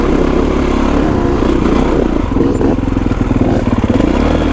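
A Kawasaki KX450X dirt bike ridden along a single-track trail, its loud engine droning and revving close up with throttle surges and a rougher, pulsing stretch midway, and no talking.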